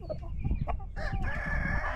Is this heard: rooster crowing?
yes